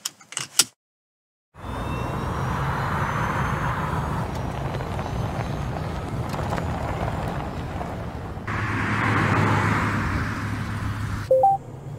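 A Genesis GV60 travels along the road, giving a steady cabin hum of tyre and road noise after a short silent start. The hum swells louder near the end, followed by a couple of soft electronic tones.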